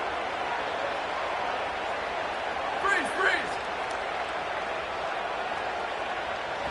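A football stadium crowd roars in a steady, dense wash during a big third-down play, with a brief swell of cheering partway through and a voice talking over the noise.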